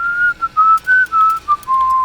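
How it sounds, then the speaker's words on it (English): Someone whistles a short wavering tune, a few clear notes with brief breaks between them, close and alone. "He's still whistling."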